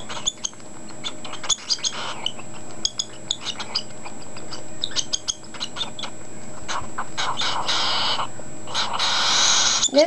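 A hungry cockatiel chick being hand-fed gives repeated short, high squeaks and chirps close by, in quick irregular bursts that swell into louder, sustained squealing near the end.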